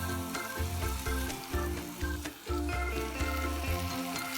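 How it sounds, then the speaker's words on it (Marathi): A masala paste of tomato, onion and yogurt, mixed with spices, sizzles and crackles steadily in a hot pan, a close, continuous frying hiss with occasional stirring scrapes and no talking. "ही जी पेस्ट आहे आपण ती ह्यात घालतोय"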